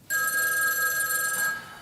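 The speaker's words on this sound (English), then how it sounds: "Your telephone's ringing." A telephone bell rings steadily for nearly two seconds during a community-theatre stage performance of a farce, loud and clear with no talk over it.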